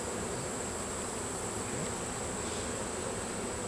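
A dense, continuous buzz of many honey bees humming together inside a hive at close range, steady and unbroken with no voices.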